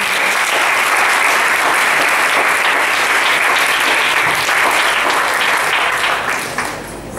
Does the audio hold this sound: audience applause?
yes